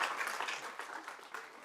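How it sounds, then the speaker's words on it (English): A round of applause at a school board regular session meeting, steady dense clapping from the audience filling the whole short stretch at moderate level. "Let's give her a round of applause with that."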